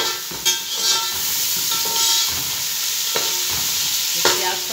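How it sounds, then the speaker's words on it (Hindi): Onions frying for a koila smoked tikka biryani give a loud, constant sizzle and hiss, broken by a few sharp stirring scrapes and clinks against the pan. "तब तो वहाँ हमारे प्याज फ्राई हो रहे हैं"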